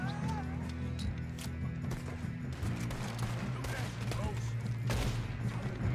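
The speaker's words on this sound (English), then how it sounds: "Who else is shooting?" Scattered gunshots in the Red Dead Redemption video game on an outlaws mission, sharp cracks in a busy burst over a steady low in-game hum, with horse hooves and a voice talking at times.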